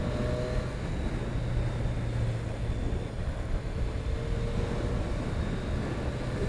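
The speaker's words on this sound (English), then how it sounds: "The wind buffeting doesn't bother me too much." Wind buffeting around a rider on a 2019 Triumph Street Triple RS at highway speed, a constant loud roaring rush close to the microphone with a low engine drone beneath.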